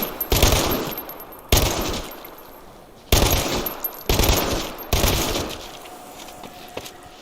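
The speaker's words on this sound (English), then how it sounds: "I'm using the pistol just because I need some pistol kills" Pistol shots from the video game Dead Island 2, fired in five loud, sharp bursts spaced about a second apart, each followed by a short reverberant tail, with faint game ambience between them.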